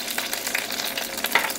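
Anchovies stir-frying in a generous layer of oil over medium-low heat, giving a steady close sizzle with light scraping stirs and no talk.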